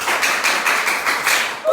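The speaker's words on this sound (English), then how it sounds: "Champagne clap." Classroom students doing a rhythmic patterned clap together, a run of about eight evenly spaced loud group claps in quick succession, close and without talk.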